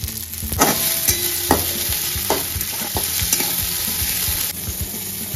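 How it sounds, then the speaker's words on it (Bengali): Onions fry in hot oil with ginger garlic paste, a loud close sizzle layered with frequent scraping and clattering stirs against the pan in an uneven rhythm, no talking. "এবার পেঁয়াজগুলো হালকা করে ভেজে নেব। ভেজে নেওয়ার পরে এর মধ্যে দিয়ে দেবো 1 পাউচ জিঞ্জার গার্লিক পেস্ট।"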